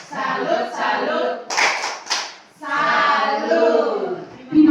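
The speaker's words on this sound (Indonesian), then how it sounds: "kita memberikan tepuk salut untuk teman saya, guru hebat Ibu Stefania" Rhythmic group clapping salute for a teacher at a primary school gathering, bursts of hand claps in a patterned beat, mixed with voices chanting in unison, fairly close and loud.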